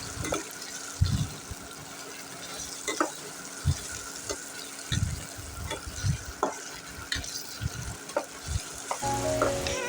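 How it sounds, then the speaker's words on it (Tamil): Chopped onions sautéing in oil until golden for a tomato gravy: continuous frying sizzle with repeated stirring scrapes and spoon knocks in an uneven rhythm, close and moderately loud. "கட் பண்ணி வச்சுருக்க வெங்காயத்தை சேர்த்து நல்லா வதக்கலாம்"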